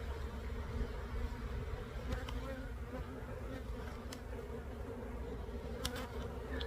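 Steady dense buzzing of many honeybees at a freshly opened hive, a constant low hum with occasional individual insects zipping close past.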